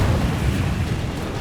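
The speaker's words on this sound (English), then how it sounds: "Explosions." Explosions in the video game Detroit: Become Human: a loud, continuous rumbling blast with deep booming low end that stays sustained throughout, with no talking.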